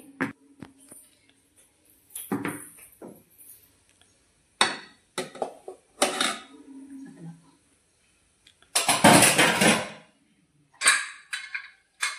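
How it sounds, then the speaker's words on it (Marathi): Clinks and knocks of metal and glass as a vessel of rava cake batter is set down into a pressure cooker, with brief clatter bursts between quiet pauses. "आता मी कुकर मध्ये ठेवते"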